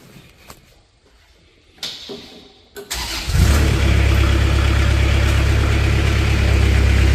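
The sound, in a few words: 2014 Moffett M55 forklift engine starting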